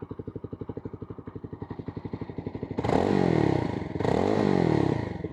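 A BSA Bantam 350 motorcycle idles with a steady, close, rhythmic putter, then the throttle blips twice into loud revving bursts before dropping back.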